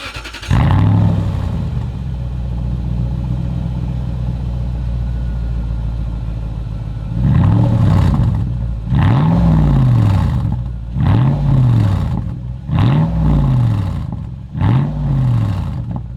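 A Lexus GX470 with a straight-pipe exhaust idles with a deep rumble, then revs hard in five or six sharp, loud bursts that rise and fall in quick succession.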